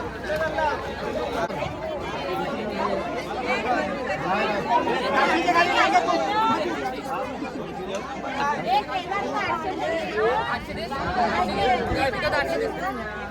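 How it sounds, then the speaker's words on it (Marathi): Dense crowd chatter at an open-air fish auction under a large tree in Dabhol market, a steady, close hubbub of many overlapping voices throughout. "जबरदस्त गर्दी आहे जबरदस्त"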